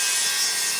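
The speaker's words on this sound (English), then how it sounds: "somebody is sawing something." Wood being sawn by hand, a brief bright rasping stroke that stays loud and even over its short span, with no talk.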